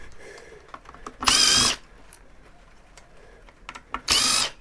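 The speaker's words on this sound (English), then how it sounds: "this drill kind of works differently" An electric drill whirs in two short, loud bursts about half a second long, separated by quieter handling clicks and rustling.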